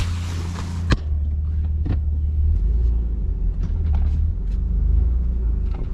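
A turbocharged Nissan 300ZX rolls along with a steady low engine rumble, a sharp knock near the start and a few faint clicks and thuds over the drone.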